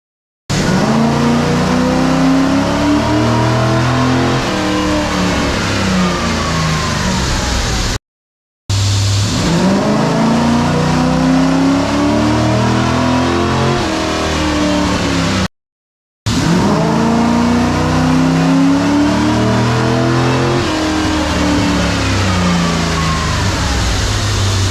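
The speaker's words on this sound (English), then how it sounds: "we are getting the Corvette set up on the dyno" A Corvette engine revving hard on a dynamometer, loud and close, in three long sweeping pulls that climb through the rev range, each cut off by a brief silence before the next run.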